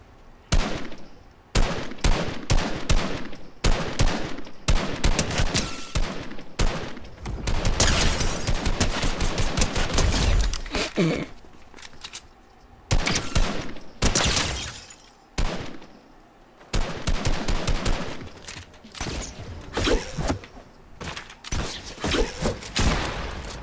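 Gunfire in the video game Fortnite: loud, dense bursts of rapid automatic shots and sustained fusillades across the whole stretch, with sharp cracks and breaking-glass textures between short pauses.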